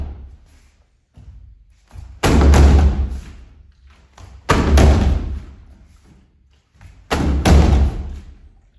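Shin striking a target with a roundhouse kick, three loud, heavy thuds spaced a couple of seconds apart, each with a short decaying tail, alone without talk.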